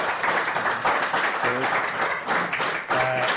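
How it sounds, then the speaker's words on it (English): A college evening audience gives a panel a round of applause, a moderate crowd clapping steadily with scattered individual claps and brief voices murmuring underneath. "Maybe give them a round of applause."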